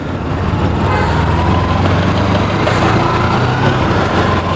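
A Kawasaki Versys X-300 with a 296cc twin-cylinder engine runs steadily, a continuous loud engine drone with low rumble holding evenly throughout, close and alone with no talk.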